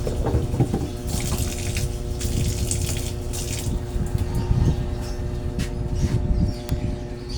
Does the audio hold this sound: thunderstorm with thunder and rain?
no